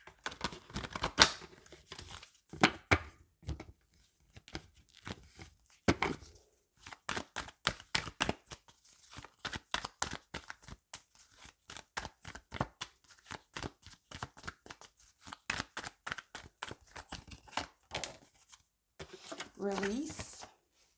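Playing cards are shuffled close up in a long series of crisp riffles and taps, with short gaps between bursts and a voice talking at times.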